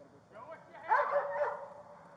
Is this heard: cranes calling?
no